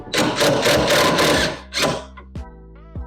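A power driver drives screws through five layers of 1708 fiberglass into 26-pound density Coosa board during a boat fuel tank installation: a loud, close, rapid whirring burst with pulsing rhythm, then a second short burst and a few brief clicks.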